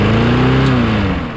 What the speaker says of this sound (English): 3 pulls and it started, but revved really high